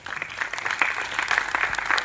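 Audience applause at a cultural award ceremony, a steady dense clapping wash that runs through the short moment without a break.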